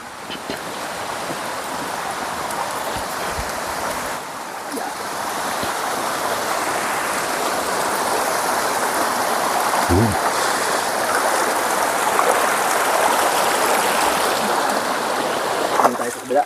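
A flowing stream along a mountain trail makes a steady, rushing wash of water that stays constant and fairly close, with faint footsteps and brief voices mixed in.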